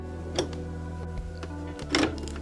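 A sewing machine stitching a bucket hat makes soft, close mechanical ticking and a low motor hum, with a couple of brief clunks as the stitching shifts; no one speaks.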